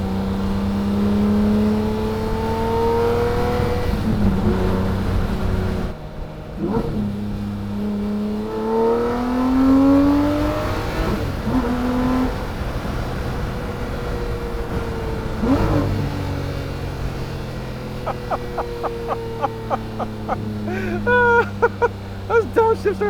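Lamborghini Murcielago Roadster V12 engine revving through rising gears, then dropping pitch on sharp downshifts with crackling pops near the end, loud and close, heard from inside the big, heavy roadster with faint talk underneath.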